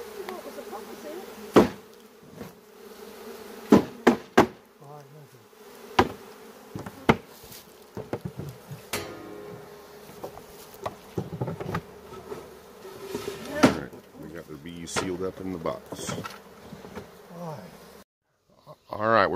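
A swarm of honey bees drones continuously close by during a hive removal from behind a wall, with scattered sharp knocks and clatters, and a voice briefly speaks over the buzzing.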